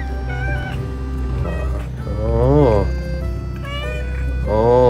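A house cat meows in greeting, several drawn-out rising and falling calls close to the microphone, loud and insistent, with a person speaking over and between the meows.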